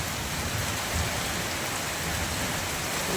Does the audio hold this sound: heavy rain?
yes